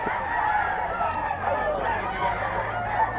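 Chickens at a Pampanga breeder's market, including banded hens, sound in a busy early-morning crowd, with crowing and clucking blended into steady background bustle.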